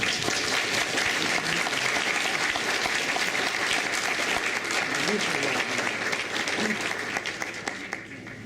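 An audience at a book presentation gives a welcoming round of applause, a steady, full crowd of clapping hands that runs throughout and tapers slightly at the end.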